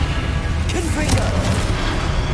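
A Confringo explosive spell blast in the Hogwarts Legacy video game, heard as a dull booming burst over a steady noisy game background.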